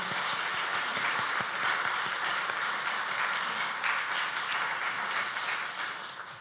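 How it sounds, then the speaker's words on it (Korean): A church congregation claps together after a missionary commissioning at a Sunday afternoon service, a full, continuous wash of applause from many hands in a reverberant hall, easing off slightly toward the end. "박수하겠습니다."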